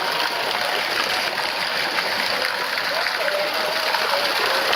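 Steady, close flow of a lazy river rushing over rocks, a continuous bright wash of water with no pauses and no talking.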